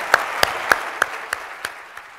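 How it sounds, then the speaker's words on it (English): Conference audience in Palm Springs claps, a loud close burst of applause with a few sharp individual claps standing out in an even rhythm, no voices over it. "give me a huge round of applause"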